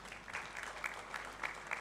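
Audience clapping for Dr. Martin Sendiona, head of a health-sector quality improvement department, at a national healthcare quality improvement conference; a fairly faint, steady patter of hands with a few sharper claps standing out.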